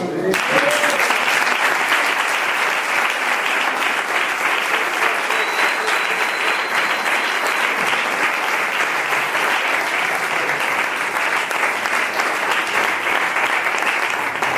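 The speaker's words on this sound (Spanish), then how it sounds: "¿Les saludáis con un aplauso?" Sustained applause from a church congregation greeting visiting brothers, a dense steady clatter of many hands at even loudness throughout, with no break or fade.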